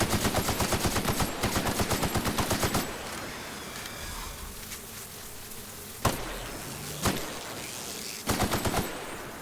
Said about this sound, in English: Good thing I got my legendary assault rifle to handle.